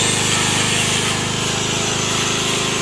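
A saw cuts rapidly through material during a painting and repair job, a loud close buzzing rasp with fast, steady strokes throughout.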